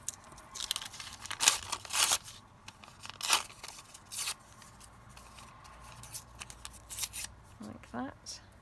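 Scraps of paper torn by hand for cluster crafts, several short rough rips in bursts at close range, with a brief voice near the end.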